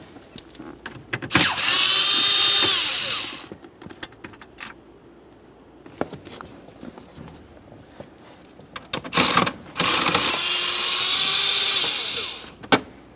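A power tool on the two 7mm bolts beneath the plastic steering-column panel of a 2001-2005 Ford Explorer Sport gives two long, loud whirring bursts, with scattered clicks and metallic rattles between them.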